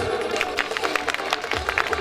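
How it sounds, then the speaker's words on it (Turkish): A crowd of guests applauds outdoors on a sunny day, giving continuous, fairly loud clapping with scattered sharper claps and some crowd noise underneath. "Bir alkışlayalım mı arkadaşımıza?"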